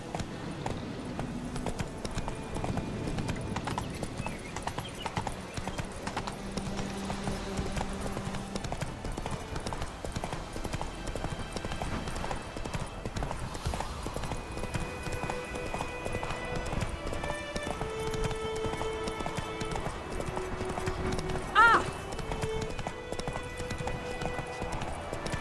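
Roach the horse running in The Witcher: Wild Hunt, with continuous clip-clop hoofbeats at a steady pace under game music and a brief whinny.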